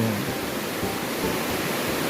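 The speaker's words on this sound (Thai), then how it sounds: "เป็นทานน้ำที่ไหล ผ่านโพดหินนะครับ ไหลลงมาจากน้ำตกตาโตนครับ" Water rushes over rocks below Tat Ton waterfall in Chaiyaphum, Thailand, after rain. It makes a steady, loud, broadband roar that stays unbroken for the whole stretch.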